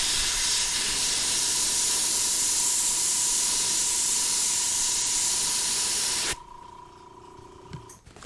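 An airbrush sprays paint in a steady, close, continuous hiss with a faint tonal whine, painting clouds, then cuts off abruptly into near silence with a few small clicks.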